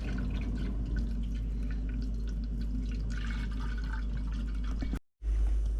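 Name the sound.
water being filled into terra cotta pot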